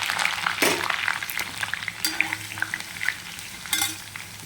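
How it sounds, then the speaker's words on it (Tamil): Six crushed garlic cloves fry in hot oil with fenugreek seeds for a black-eyed pea kuzhambu, giving a close, crackly sizzle punctuated by sharp stirring scrapes and spatters. "ஒரு 6 பல் பூண்டு தட்டி வச்சுருக்கேன் பார்த்துக்கோங்க, அதை போட்டு வறுத்துடலாம்"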